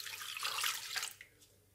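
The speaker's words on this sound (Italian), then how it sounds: "Mettiamo tutto il latte nel boccale." Milk pouring into the bowl of a kitchen mixer while making a panettone, a steady close liquid splash that builds for about a second, then thins to a few faint trickles and drips.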